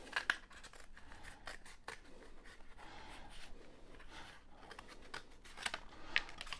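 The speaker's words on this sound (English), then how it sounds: "See how we cut it through?" Scissors snip through a cardboard tube while a puppet craft for kids is being made, giving close, faint crunchy cuts and scraping, with a couple of sharper snips near the start and end; no one speaks.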